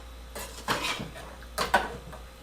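A pot holding boiled squirrel ribs and head clinks and scrapes as it is handled, with two short bursts of metallic knocking close by and no talk.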